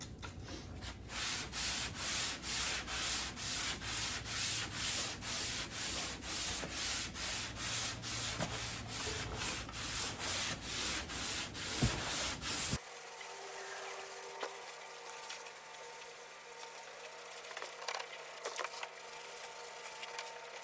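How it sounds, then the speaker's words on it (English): Rhythmic rasping strokes of a sanding block worked back and forth over filler on a 1985 Jeep CJ7 door panel, steady and close for about twelve seconds before stopping, leaving quiet shop ambience. "Once I block sand it, if that's filler, it'll show itself."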